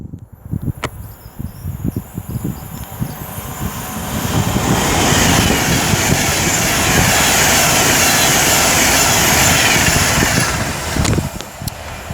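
Class 390 Pendolino 390 148 speeding through Lichfield Trent Valley station, a steady roaring rush of wheels and air that builds over a few seconds and holds loud and near, with faint birdsong at the start.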